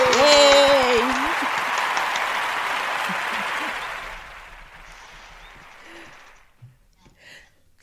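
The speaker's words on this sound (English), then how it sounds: "And let's celebrate that with a round of applause." Audience applause at a relationship talk event, a spread of clapping that starts under a brief cheer and gradually thins and fades over several seconds.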